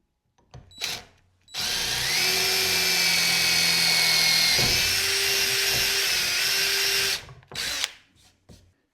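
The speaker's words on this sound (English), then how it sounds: "I'll just screw the holes through the wood and then we will attach them." Power drill boring screw holes through a wooden charcuterie board for brass handles, a loud steady whine lasting several seconds with a brief pitch dip midway, bracketed by short starts and stops at each end.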